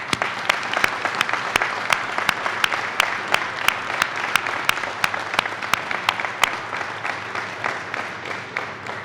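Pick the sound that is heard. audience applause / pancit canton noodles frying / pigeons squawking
audience applause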